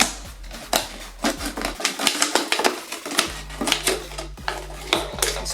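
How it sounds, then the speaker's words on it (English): Scissors cut a plastic bottle in half, with a rapid series of sharp snips and crackles from the plastic, some crunchy and some clicking, close and loud with no talking. "so I'm going to cut the bottle in half"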